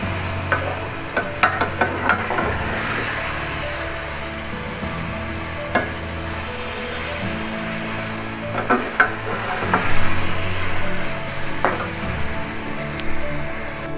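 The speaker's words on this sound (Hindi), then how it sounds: "टमाटर और सब्ज़ मिर्च डालने के बाद हमने तकरीबन इसे 2 से 3 मिनट और भूनना है।" Minced meat keema with tomato and green chillies fries in a pan, a steady crackling sizzle punctuated by intermittent scrapes and taps of a spoon stirring through it, with no talk.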